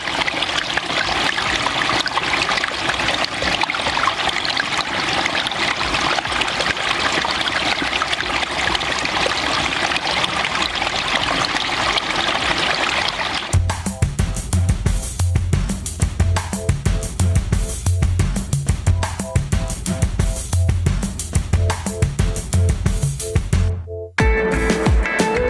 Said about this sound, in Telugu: వాటర్ ఫాల్స్ టికెట్ తీసుకున్న చోట వాటర్ ఫ్లో ఉంది